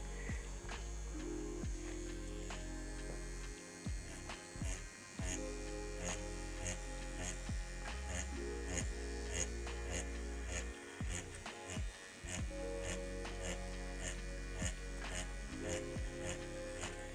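An InkChum P001C wireless tattoo pen buzzes in a steady electric drone, close and moderately quiet. Short rhythmic pulses of needle strikes run through the hum, with a few brief dips as the pen is moved.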